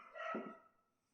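A single dog barks once at a distance, a short sharp yelp that fades into quiet.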